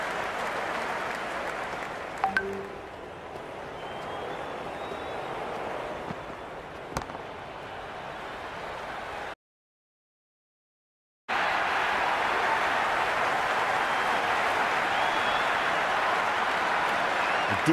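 Crowd cheering and applause in a cricket video game, a Big Bash League match between Sydney Sixers and Adelaide Strikers, a steady loud roar with a few sharp claps that cuts out for about two seconds and then resumes at full strength.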